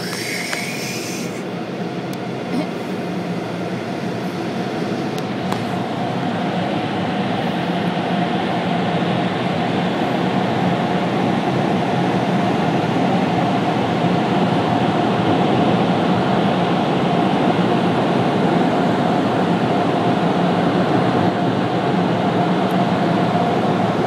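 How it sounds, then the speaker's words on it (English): Car wash dryers blow a loud, continuous rushing roar of air that holds steady without a break from start to finish. "Here comes the dryers."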